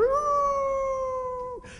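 A human voice imitating a coyote howl, a single sustained, slightly rising then level wail that holds for about a second and a half before breaking off, close and clear with no other sound.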